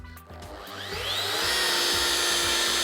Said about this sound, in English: So I'm now going to turn the machine up to 1500 to 800 RPM, light pressure on the machine and start 10 passes again.